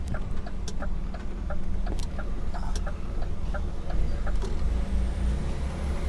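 A delivery lorry hauling pallets of drinks pulls in nearby, its engine a steady low rumble with short hisses and clicks, while a chicken clucks in the background.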